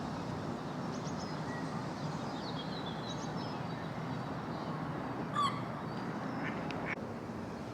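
Ducks quack now and then at a London park, fairly distant and faint over a steady background of outdoor noise. A sharper call stands out near the middle.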